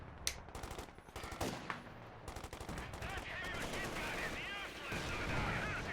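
Rapid tank machine gun bursts in a World War II strategy video game, with dense crackling fire building into a sustained, loud rattle mixed with other battle sounds.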